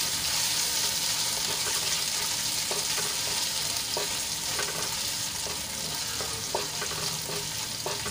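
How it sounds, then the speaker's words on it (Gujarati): Green chillies and ginger sautéing in hot oil, a loud, dense, continuous sizzle with faint scrapes of stirring scattered through it and no voices. "હવે તેલમાં સરસ રીતે થોડુંક સાંતળી લઈશું મરચા અને આદુને"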